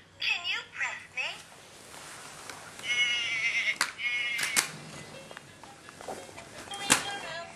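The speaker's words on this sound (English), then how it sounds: "I'm the sheep. Can you press me?" A toy's electronic sheep bleat plays twice, wavering and nasal, with a child chattering and rustling page sounds around it.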